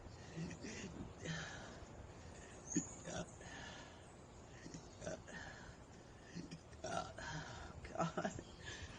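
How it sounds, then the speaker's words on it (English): Quiet, repeated hiccup-like burps from a person with an upset stomach recur throughout, interspersed with breathy sounds and soft speech. "At least this ain't the bad burping."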